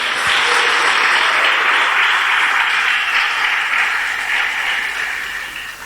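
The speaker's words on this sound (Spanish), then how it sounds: "Denle un aplauso a Dios" Church congregation applauding together in a steady, loud wash of clapping that holds for the whole stretch, slightly easing toward the end, with no voices standing out.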